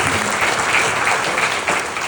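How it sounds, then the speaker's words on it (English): An audience breaks into dense, steady applause at a real estate talk. The clapping stays loud and close for about two seconds, with no voices over it. "let's clap it up for that"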